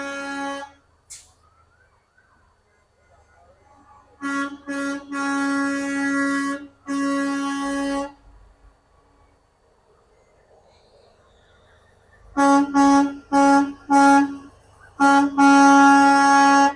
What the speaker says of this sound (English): These trucks and things like to honk their horns